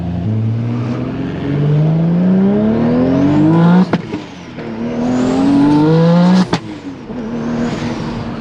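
A 2JZ-swapped MK5 Supra with a six-speed manual drives along, its engine climbing steadily in pitch through the gears, with two sharp shift breaks, loud and close from inside the car.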